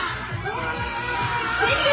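A crowd shouts and cheers loudly at a grand opening event, many voices overlapping in a continuous roar that swells toward the end.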